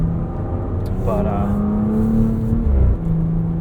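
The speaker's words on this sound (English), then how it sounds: "what a very impressive driving experience here in this Cayenne S" A 2023 Porsche Cayenne S engine is heard from inside the cabin while driving on back roads at the Porsche Experience Center LA, giving a steady hum with a rising tone, beneath someone talking.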